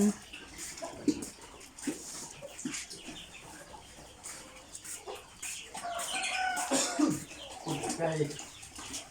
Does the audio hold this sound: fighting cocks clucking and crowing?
yes